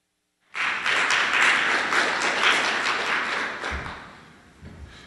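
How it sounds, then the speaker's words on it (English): Audience applauds after a talk at a cancer center oncology update conference, a dense, steady roomful of clapping that holds for several seconds, then thins and fades, with a couple of soft thumps near the end. "I'll tell Dr. Sov that you all clapped."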